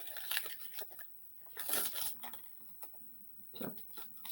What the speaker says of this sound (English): I'm going to take it and crumple it